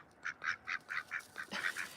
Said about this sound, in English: Those are 3 of our ducks.